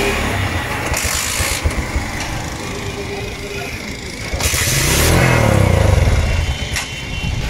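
A TVS Striker motorcycle with a rectifier fault that stalls when the horn is pressed is kicked into life, its engine rising to a loud, steady idle in the second half, with voices in the background.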